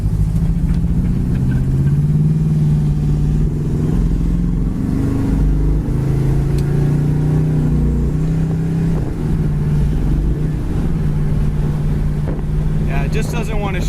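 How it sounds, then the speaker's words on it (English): A 1979 Pontiac Trans Am engine drones loudly and steadily from inside the car as it pulls through manual gears, with its pitch rising and dipping at shifts under heavy wind noise. "Try to go through the gears manual here and see if we can get a little performance out of it."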